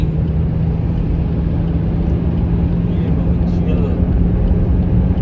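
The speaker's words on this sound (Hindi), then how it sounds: "नेक्सन गाड़ी की स्पीड है भाई 145 पे अभी" Tata Nexon car racing at about 145 km/h, a loud steady roar of engine, tyre and wind noise with a constant low hum from inside the cabin, and a voice talking over it.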